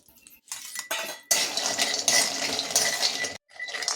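Cashews roasting in ghee in a pan, heard as metal spoon scrapes and clinks against the pan in bursts with brief sizzling, close and loud with short pauses between strokes and no speech.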